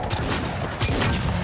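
Rapid gunfire and booming blasts from combat in the video game Cyberpunk 2077 Phantom Liberty, forming a dense, continuous barrage with a louder burst partway through and a steady level otherwise.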